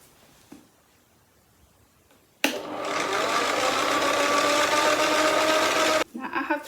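A wood lathe in a home workshop is switched on and spins up, a steady loud whirring hum that starts abruptly after near silence, runs for several seconds, then cuts off into faint handling noise.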